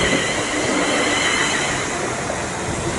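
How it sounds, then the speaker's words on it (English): A London North Western passenger train passes at Watford Junction on the West Coast Main Line, a loud, steady rush of wheels and rail noise close by, continuous and alone. "Approaching now, or passing now, is going to be a London North Western service"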